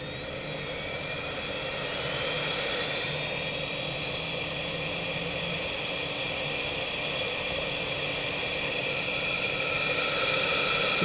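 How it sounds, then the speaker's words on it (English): Hard disk drive motor spinning up, a steady high-pitched whine with a smooth hiss underneath that swells slightly after a couple of seconds and then holds at a constant level, close and alone with no talking. "Listening to the sound of this motor."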